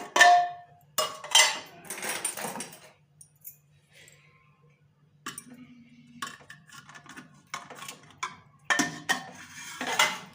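Pots and cookware clank and rattle in several loud bursts as cooked bottle gourd is lifted out of a cooled pressure cooker, with quieter gaps and a low hum between the clatters.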